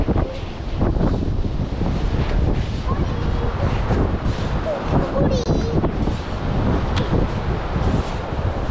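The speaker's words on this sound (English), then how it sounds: "Sorry about the wind, if you can hear the wind." Gusting wind roars steadily across an open beach at Skinningrove during lugworm digging, a loud, constant buffeting rumble with a faint wash of surf underneath.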